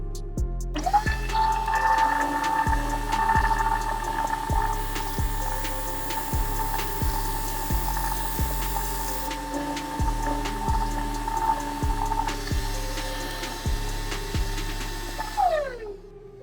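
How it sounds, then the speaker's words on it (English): A dust collector hums steadily in a woodworking shop beside a disc and belt sander, starting with a rising whine and running for about fifteen seconds alongside a rhythmic mechanical ticking, then spinning down at the end. "So first I'm gonna turn on my dust collector"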